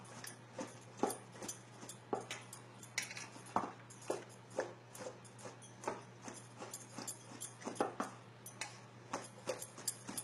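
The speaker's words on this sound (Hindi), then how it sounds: "अच्छी तरह से मिक्स कर देंगे बैंगनों को।" Eggplants being mixed with spice masala in a dish for bhagara baingan make a steady run of soft clinks, scrapes and taps, fairly quiet and close, with a low constant hum underneath.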